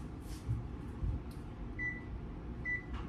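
An oven set to preheat to 350 degrees gives two short, thin electronic beeps about a second apart over a steady low appliance hum.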